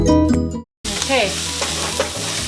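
Garlic and minced rosemary frying in a pan, with a loud, steady sizzle and scraping stir sounds after a short cut from quieter music, no talk.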